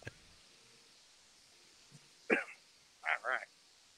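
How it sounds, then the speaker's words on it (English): A few dry coughs sound close and fairly faint in a quiet room, one short burst followed by a quick double cough a second later. "There's that dry cough."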